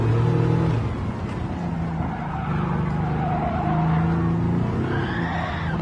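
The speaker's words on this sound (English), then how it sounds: "Upshifting ridiculously early." A race car in Gran Turismo 7 revs loudly and continuously with rising and falling engine pitch through early upshifts, tyres squealing over it, with no talk.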